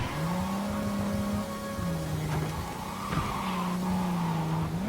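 A car in Cyberpunk 2077, driven hard through bushes, holds a steady engine drone while its tires squeal and skid in long, wavering slides, with brief rustling thumps from the foliage mixed in.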